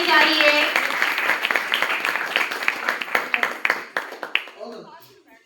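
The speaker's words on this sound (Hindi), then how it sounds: "सर के स्वागत में जोरदार तालियां, सबका तालियां बजती रहनी चाहिए।" An audience at a school birthday celebration for Atal ji claps to welcome a guest, sharp overlapping claps that start dense beneath a voice and thin into sparse individual claps before dying away.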